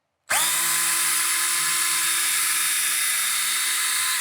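A power drill starts abruptly and whines at a steady high pitch, boring continuously into drywall for several seconds, loud and close.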